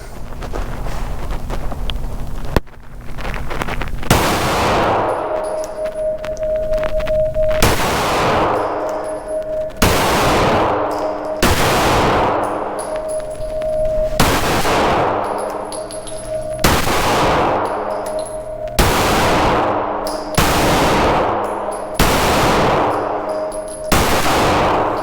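Ten sharp 9mm shots from an Echelon pistol with a 4-inch barrel, firing 115-grain Aguila rounds at an outdoor range, spaced about two seconds apart, each a loud close crack with ringing tail, light wind noise between.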